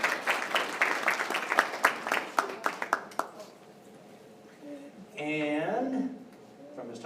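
A school assembly audience applauds, a burst of clapping rising after a voice speaks over the hall and fading as talk resumes.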